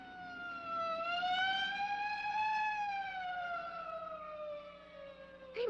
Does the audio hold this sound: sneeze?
no